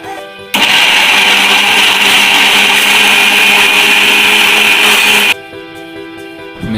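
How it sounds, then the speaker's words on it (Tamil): A kitchen mixer grinder whirs loudly and steadily for about five seconds, grinding tomato, mint, chili, onion, garlic and coriander without water, then cuts off abruptly. "தண்ணி விடாமல் மிக்சியில் போட்டு ஒரு அடி அடிச்சுக்குவோம்."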